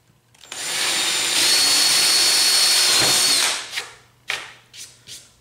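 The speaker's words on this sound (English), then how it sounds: "So I'm going to drill this corner first." A power drill bores a corner hole in a wooden DIY retro arcade cabinet panel, making a loud, close, continuous whine for about three seconds. A few short scraping bursts follow as it stops.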